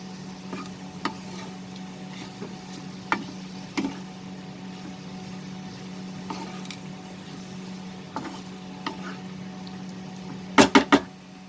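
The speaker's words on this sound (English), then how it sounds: "Lower the flame and mix it nicely with the tomato and the onion." Bitter gourd fried earlier, stirred with tomato and onion in a pan over a low flame: a steady low hum, soft scraping throughout, and occasional sharp spoon clicks near the end.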